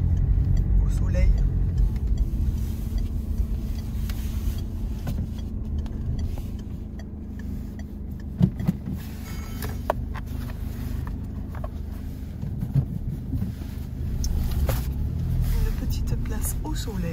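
A car rolls slowly into a supermarket parking lot, a steady low engine and road rumble heard from inside the cabin, with a few light clicks and knocks and a faint voice.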